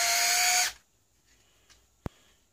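A Parkside PABS 12 B2 cordless drill in drill mode whirs loudly for under a second, then stops abruptly, followed by quiet and a single sharp click.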